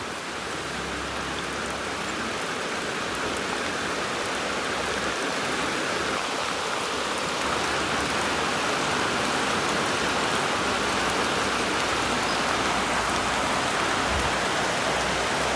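Steady rain pours down in a dense, even hiss that continues without pause for the whole stretch, with no voices over it.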